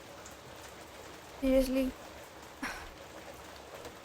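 Rain falls steadily outside a home as a soft, even hiss. Someone speaks briefly over it.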